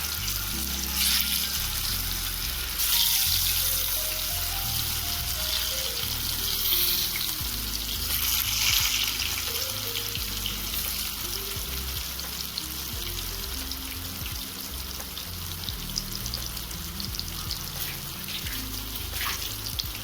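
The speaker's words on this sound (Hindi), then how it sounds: "ये तेल अब गरम हो गया है। अब बेसन को ना थोड़ा सा फ्राई कर लेते हैं।" Gram flour (besan) gatte fry in hot oil with a loud, dense, continuous sizzle and bubbling, close up, with faint background music and no speech.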